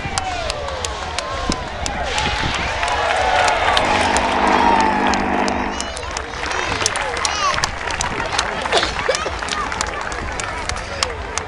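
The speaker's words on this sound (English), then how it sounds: "Big round of applause, ladies and gentlemen," A crowd at a seaside airshow in Westport, Ireland cheers, whoops and applauds loudly as parachutists from the Irish Parachute Club touch down in a stiff breeze, the roar swelling mid-clip before easing into scattered clapping and murmuring voices.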